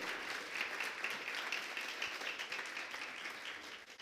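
A church congregation applauds during a sermon, continuous dense clapping held at a fairly quiet, distant level from start to finish.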